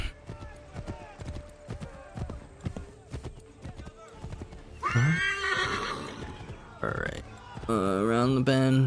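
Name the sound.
horse neighing and galloping in the video game Assassin's Creed 3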